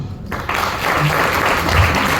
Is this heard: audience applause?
yes